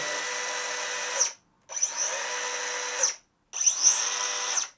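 DeWalt DCS438 cordless 76 mm cut-off tool running unloaded in three separate bursts, a loud high whine that spins up quickly and stops abruptly with brief silences between, no talking.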